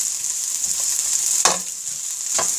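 Onions fry in a pan with a steady, close sizzle, broken by two brief stirring scrapes.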